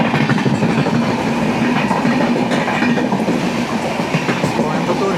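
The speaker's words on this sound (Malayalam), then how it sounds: "Hisar AC super ഫാസ്റ്റാണ്." The Hisar AC Superfast Express train rushes past, a loud, close, steady roar with rhythmic wheel clatter over the rails that barely lets up.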